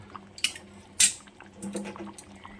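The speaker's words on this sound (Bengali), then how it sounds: "এবারে আমি একটা পাত্রের মধ্যে এটাকে ঢেলে নেব।" Cooked pea and potato ghugni is tipped into a bowl, making two soft, wet plops followed by quieter squishy scraping, all faint and close.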